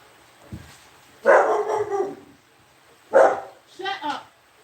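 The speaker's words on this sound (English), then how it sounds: "You don't even got a reason to bark right now." A dog barks in three loud, close bursts spaced about a second apart, the later ones split into quick yips, with quiet gaps in between.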